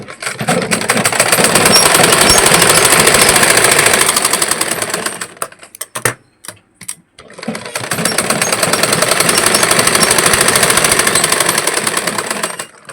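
A sewing machine runs in two long loud bursts of rapid mechanical stitching while double-stitching a blouse strip, with a short pause between them for repositioning and no talking.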